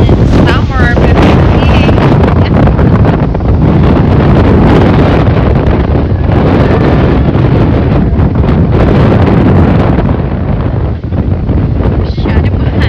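Strong wind buffets the microphone on Edgemont Hill in Toronto, a loud, continuous roar that fills the whole clip, with voices faintly underneath.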